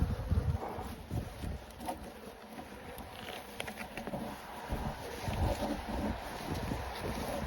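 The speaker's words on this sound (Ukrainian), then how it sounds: "Бачите, яка активна бджола тут." Active honeybees hum in a steady, dense drone around an opened wooden hive during a winter inspection, with outdoor wind noise and scattered rustling over it, continuous throughout.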